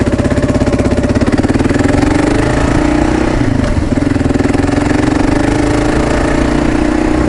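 A motorcycle engine runs steadily and loudly throughout a ride on a cool day, with a constant throbbing drone that rises and dips slightly as the bike moves, close and continuous with no talk.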